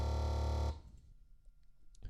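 A loud, buzzy distorted synth bass note holds for under a second, then cuts off, leaving faint low rumble and small noises.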